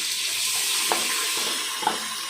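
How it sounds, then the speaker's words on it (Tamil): Onions and green chilies fry in a pan for country chicken biryani, giving a steady bright sizzle with a couple of brief stirring knocks. "வெங்காயம், பச்சை மிளகாய் போட்டு வதக்கிக்கலாம்"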